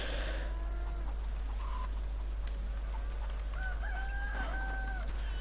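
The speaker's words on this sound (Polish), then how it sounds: "możemy teraz nakarmić kurczaki" Chickens on a ranch in the Red Dead Redemption 2 game cluck and crow in short calls over a steady low background hum, moderately near, with no talk.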